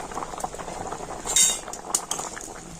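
Potatoes boil in a covered pot, a steady bubbling hiss with a couple of sharp metallic clinks as the lid is lifted and the contents checked, close and moderately loud, with no voices.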